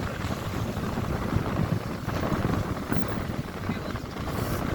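Strong wind buffets the microphone outdoors at Farakka, a loud, continuous rushing roar with gusty surges and no pause throughout.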